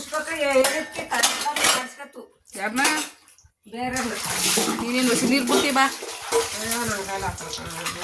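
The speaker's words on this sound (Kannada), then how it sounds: "ನೀನೇನು ನಲ್ಲಿ ನೀರು ಬಿಟ್ಕೊಂಡು ಇದು ಮಾಡ್ತಾ ಇದೀಯವ" Dishes and cutlery clatter and clink under running tap water at close range, splashing steadily apart from one brief pause, while people talk over the washing.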